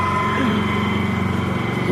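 A small inverter generator idles without load, its engine holding a steady, close hum with a faint tonal whine.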